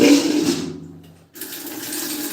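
Water runs steadily into a container at home during a water shortage, with a continuous rushing flow that briefly drops out near the middle before resuming.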